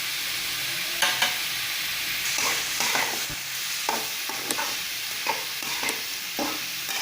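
Banana stem sautéing with curry masala and chili powder in a pan gives a soft sizzle under repeated scraping and clinking stirs of a spatula, irregular strokes close by and no talking.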